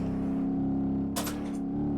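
A heavy Scania truck engine in BeamNG.drive, hauling a log trailer, drones steadily at low pitch, a constant close hum with a brief hissy burst partway through.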